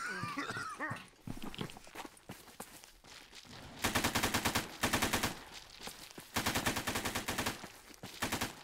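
Automatic gunfire in a Stalker GAMMA firefight against mutants: rapid, loud bursts of machine-gun fire repeated several times, with growls and creature noises between them and no talking.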